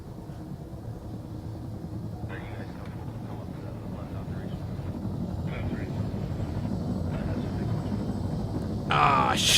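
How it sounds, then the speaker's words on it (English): Helicopter rotors winding up in Arma 3, a low steady engine drone that builds gradually beneath a talking voice, with a brighter burst of mechanical noise near the end. "Now we'll kick on our rotors."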